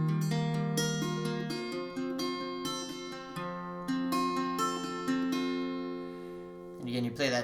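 Fingerpicked acoustic guitar plays the opening part of a song, ringing arpeggiated notes over sustained bass in a steady flowing pattern, close and clear with no voice over it.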